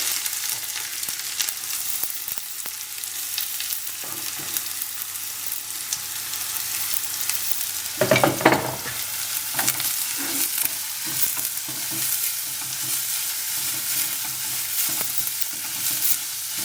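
Green chillies and onion frying in a pan for masala bread roast, a continuous bright sizzle of hot oil with occasional louder bursts and scraping stirs, close and steady.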